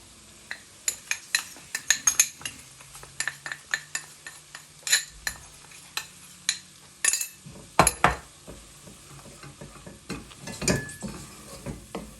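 Flour being stirred into a vegetable pasta sauce in a pan, heard as a busy run of close metallic scrapes, clinks and taps of a utensil against the pan, repeating irregularly with no talk.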